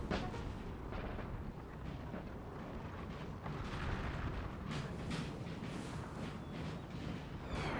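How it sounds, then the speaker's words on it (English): Eight-pounder cannons fire in a Napoleonic battle from Napoleon: Total War, Bailén 1808: a continuous, dense rumble of distant artillery with scattered louder booms rising out of the battlefield din, no voices. "The silent artillery firing, but it is there. It's 8 pounders."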